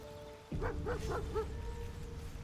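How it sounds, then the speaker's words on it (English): Dog in the video game Baldur's Gate 3 gives four quick, moderately loud barks in a row after a sudden onset, over a low ambient game rumble. "I hear barking."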